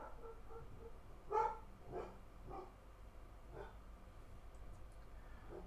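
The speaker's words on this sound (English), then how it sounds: "I have a canine emergency. He's barking his head off." A dog barks a few times indoors, sharp yelps rising out of a steady background hum, the loudest near the start and fainter ones following.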